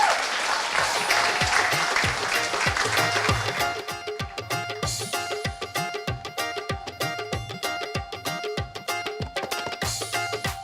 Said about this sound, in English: One more time, ladies and gentlemen, round of applause.